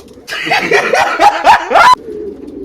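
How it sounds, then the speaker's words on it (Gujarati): A single pigeon coos loud and near in a quick series of about five rising, throaty notes that swell toward the end before stopping abruptly. "ઘૂઘવાની સ્ટાઇલ જોવો તમે મિત્રો."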